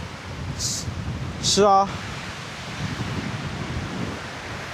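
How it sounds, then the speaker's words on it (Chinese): Wind rushes through trees on a mountain trail in Hunan, a steady broad hiss with a brief spoken word partway through. "风吹在这个树上沙沙作响"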